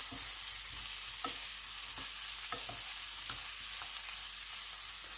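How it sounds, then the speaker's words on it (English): Chorizo and red pepper fry together in a pan, giving a steady close sizzle with a run of soft utensil scrapes and taps as the mixture is stirred. No one speaks. "Now, let's fry this all together."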